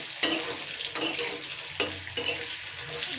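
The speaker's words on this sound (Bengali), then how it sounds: "ঠিক আলু ভাজা যেরকম করে তো একটুখানি কড়া করে ফ্রাই করে নেব।" Sliced potatoes with a little salt fry crisply in oil, a bright continuous sizzle broken by several sharp stirring scrapes at close range.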